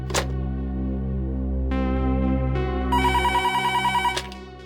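An old-style telephone bell rings loud and close in a steady sustained burst, its harmonic tone shifting pitch partway through before cutting off with a sharp click, alone without any voices.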